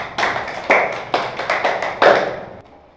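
A few hands clap in a classroom for a student, about half a dozen sharp, uneven claps spread over a few seconds before dying out.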